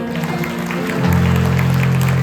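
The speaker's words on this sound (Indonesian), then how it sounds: "Berikan tepuk tangan yang baik." A congregation applauds at a Christian Easter gathering of civil servants, soldiers and police. Dense clapping runs throughout, and sustained keyboard tones swell in underneath partway through.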